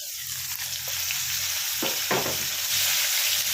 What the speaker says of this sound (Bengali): তেল ভাজা হচ্ছে, খুব ফাটছেও।